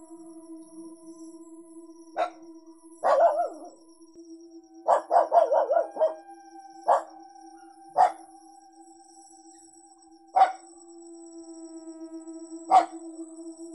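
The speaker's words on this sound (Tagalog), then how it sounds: "Tumatahol yung aso ko." A dog barks in spaced single and clustered yelps, some drawn out into short howling cries, fairly close against a quiet background with a steady electrical hum.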